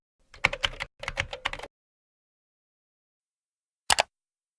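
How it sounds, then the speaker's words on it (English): Bursts of typing on a computer keyboard, two quick runs of keystrokes close together, then a short pause and a final brief double tap, all close and clear with no voices. "type in the rejection reason and click on the OK button"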